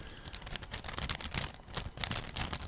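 Rapid, irregular crackling and popping, like cellophane being crumpled close to the mic to mimic a fire's crackle, steady throughout with no voices.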